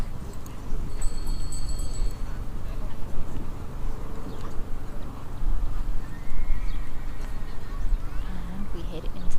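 A horse canters through a full canter pirouette during a dressage test, with soft rhythmic hoof thuds and an occasional whinny, under steady commentary.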